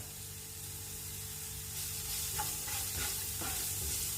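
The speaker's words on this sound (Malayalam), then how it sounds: "ഇപ്പൊ ഇതെല്ലാം ഒന്ന് ഫ്രൈ ആക്കി എടുക്കാം കേട്ടോ" Brinjal mixture frying in a pan, a continuous loud sizzle and hiss with a few scraping strokes of stirring near the end, no voices.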